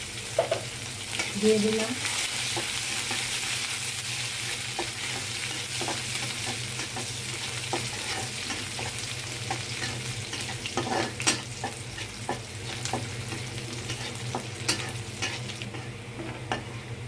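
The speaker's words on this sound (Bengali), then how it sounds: "পেঁয়াজ রসুনটা বাদামি কালার ভেজে নিয়েছি" Chopped garlic and onion fried brown for an okra dal, a continuous close sizzle with occasional stirring clinks; a brief spoken phrase comes near the start.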